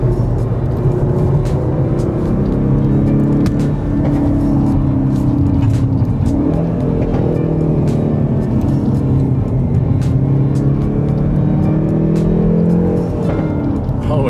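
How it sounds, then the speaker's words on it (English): A Hyundai Veloster N with its stock exhaust accelerates hard in sports mode, its engine note rising and falling through repeated revs with short crackles, heard from close inside the car. "The car sounds really good for a stock exhaust."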